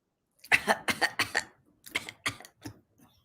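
A rapid burst of several dry coughs in quick succession, then a short pause and a few more weaker coughs trailing off.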